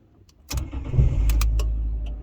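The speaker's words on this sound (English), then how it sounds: "if I turn the key now with the engine running, that foot should sink a little bit" A Fiat 500 with a 1.2 engine cranks and catches as the key is turned, then settles into a loud, steady idle close by. No one speaks.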